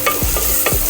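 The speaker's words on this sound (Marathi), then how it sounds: "कांदा आपल्याला चांगला परतून घ्यायचा आहे फोडणीमध्ये" Sliced onion sautéing in hot tempering oil over a wood-fired chulha for masale bhat, a steady close sizzle with two quick scraping stirs of the spoon.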